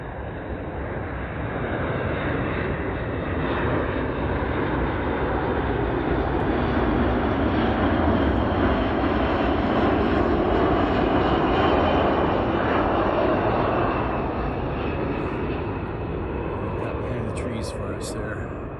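An air refueler aircraft flies low overhead in Alaska while doing touch-and-goes, a loud continuous engine roar that swells and then slowly fades away.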